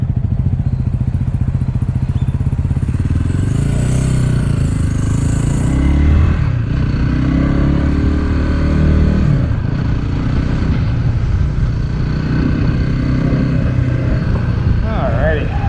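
A motorcycle cruising on a road, steady loud engine drone with heavy wind rumble from close up, as a rider's voice talks over it.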